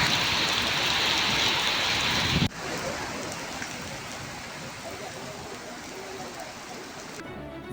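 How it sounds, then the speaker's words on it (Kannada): Heavy rain with hail pounds down across Belagavi district, a loud, dense roar of falling water that cuts abruptly to a slightly softer, steady downpour partway through. "ಆಲಿಕಲ್ಲು ಸಮೇತ ಇವತ್ತು ಬೆಳಗಾವಿ ಜಿಲ್ಲೆಯಲ್ಲಿ ವರುಣನ ಆರ್ಭಟ ಹೆಚ್ಚಾಗಿದೆ"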